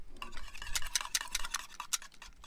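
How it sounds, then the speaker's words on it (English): Two eggs and Dijon mustard being whisked for ranch dressing in a bowl, a rapid run of light metallic clicks and scrapes at close range with no talk. "with our 2 eggs, our Dijon, give it a bit of a whisk"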